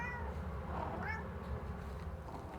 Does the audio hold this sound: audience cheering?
no